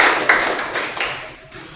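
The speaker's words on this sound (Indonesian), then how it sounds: "Terima kasih, tepuk tangan." A classroom of students breaks into a dense burst of applause, many hands clapping at once, loud and fairly close, then thinning out and fading over under two seconds.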